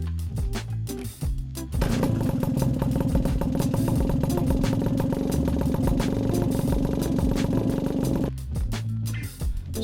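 A 1978 Puch Magnum XK 50cc moped engine buzzes loud and close while riding, climbing into a sustained high-revving drone for several seconds before easing back, with no talk.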